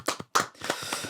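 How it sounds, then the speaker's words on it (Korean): Applause in a Korean television studio during the taping of a show's first episode: a short patter of hand claps that pauses briefly, then resumes and continues as a denser spread of clapping. "박수."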